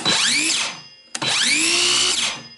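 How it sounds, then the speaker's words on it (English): A Craftsman cordless saw motor whirs up to speed twice, each run rising in pitch then winding down, loud and close. "You can hear the difference in this motor. It actually engages and then starts to spool up a little softer"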